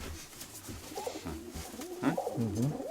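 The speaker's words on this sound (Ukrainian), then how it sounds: "Ну тут голубок, голубок є." A pigeon coos nearby in soft, throaty, rolling calls, repeated a few times with no talking.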